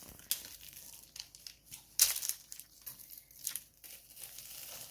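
A sharp knife saws through crispy rice cereal treats for Halloween mummy snacks, making quiet, irregular crinkly crunches and tearing crackles in short bursts, with no talk.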